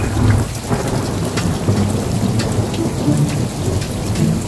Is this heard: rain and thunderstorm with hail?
yes